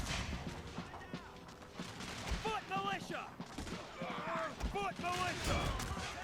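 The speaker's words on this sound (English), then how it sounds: "Once the Marines start opening fire." Marines fire volleys in a Total War battle game, bursts of musket and rifle shots crackling at mid distance amid battlefield din, with someone talking over the gunfire.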